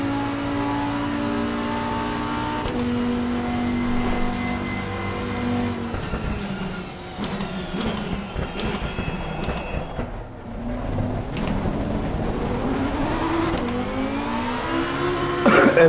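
A GT2 race car engine in the racing game Assetto Corsa Competizione, driven on track with a stock setup while warming the tyres, a steady droning engine note that rises and falls as it revs through the gears.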